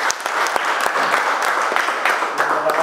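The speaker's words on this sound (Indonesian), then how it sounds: "Terus tepuk tangan." A crowd claps after a home football match between Sabah FC and Perak FC, a loud, close run of applause with sharp individual claps standing out against the steady mass of hands.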